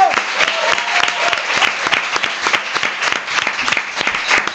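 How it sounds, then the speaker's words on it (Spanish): A studio audience at a Spanish comedy show claps for the co-host, a thick, even wave of applause that stays loud for several seconds. "Un aplauso para mi compañero también."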